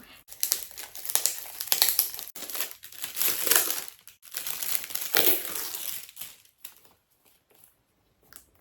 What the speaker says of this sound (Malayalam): നമുക്കിത് അൺബോക്സ് ചെയ്യാം